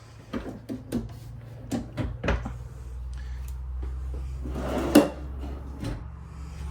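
Kitchen drawers in a 2025 Salem Hemisphere fifth wheel slide open and shut, a series of sharp wooden knocks and thuds with a rolling rumble between them, close by, including one louder bang, with no talking.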